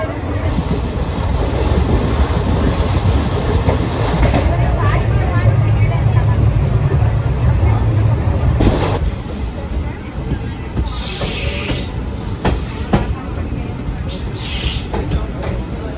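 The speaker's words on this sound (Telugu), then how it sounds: "సింహాద్రి ఎక్స్ప్రెస్ వచ్చేసింది ఎక్కేసి కూర్చున్నాను" The Simhadri Express passenger train rolls between Samalkot and Annavaram, heard from on board as a steady, heavy rumble that shifts and thins partway through, with voices faintly in the background.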